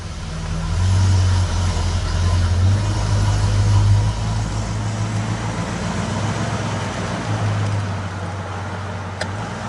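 A classic car from a museum collection drives along with a steady, loud engine drone and road rumble, its pitch rising slightly early on and then holding even, with no talking.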